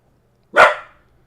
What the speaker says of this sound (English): Maxie, what are we barking at?